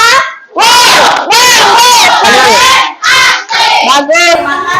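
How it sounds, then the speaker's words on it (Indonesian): A school class of children shouting the "tepuk wow" clapping chant in unison, loud bursts of massed young voices with claps, repeated several times in quick succession. "Kalau benar mana tepuk wawnya?"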